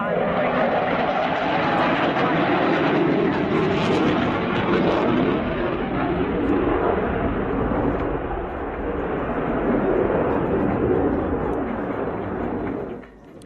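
Panavia Tornado jet flying a roll under turn at an airshow display, a loud continuous roar that surges and fades as the aircraft passes, with a commentator talking over it.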